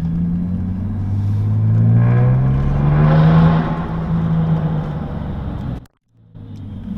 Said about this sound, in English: as you let off the gas and the engine starts to like come down, you can just hear the turbo